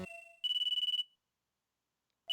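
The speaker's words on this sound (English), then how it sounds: "this time my cell phone starts ringing" A cell phone ringtone chimes in a steady pulsing burst for about half a second, stops, then starts again at the very end, clear and close with no talking.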